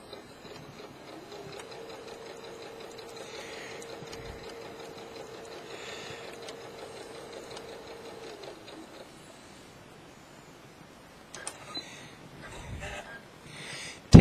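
A sewing machine fitted with an open toe embroidery foot runs a steady row of top stitching on fabric, a constant whirring hum for several seconds that stops, followed by a few handling clicks.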